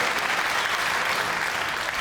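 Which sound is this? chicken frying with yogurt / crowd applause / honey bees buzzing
crowd applause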